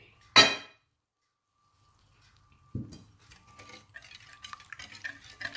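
Milk being stirred into a mixture in a bowl: a sharp clink of utensil on the container, a soft knock, then a stretch of light, repeated scraping stirs, close and fairly quiet with no talk.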